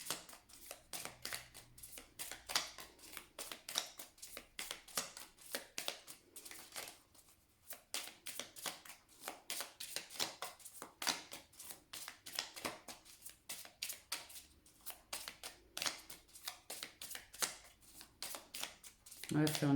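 Tarot cards shuffled and cut by hand in a dense, continuous run of soft flicks and riffles, close and fairly quiet, with only occasional pauses.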